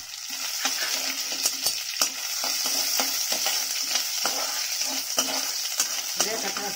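Ginger and garlic fry in hot oil in a pan for a mushroom gravy, a steady bright sizzle broken by repeated scraping strokes of a spoon stirring at a fairly regular pace.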